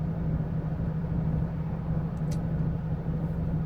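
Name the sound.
car traffic on a dual carriageway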